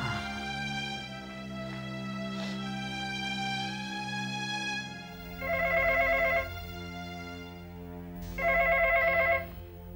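A telephone rings during an outgoing call, with two bursts of a warbling ring tone heard alone, close and moderately loud, over a steady background hum.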